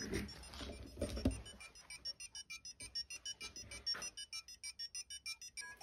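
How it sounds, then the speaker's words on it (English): Faint, quick electronic bleeps from Arduino-driven coffee-can speakers pulse in an even stream, a regular pattern of short beeps that grows more distinct after some low rustling and handling noise at the start. "I should be able to hear the sound moving backwards and forwards between the two"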